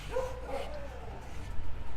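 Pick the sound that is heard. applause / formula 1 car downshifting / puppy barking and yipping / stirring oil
puppy barking and yipping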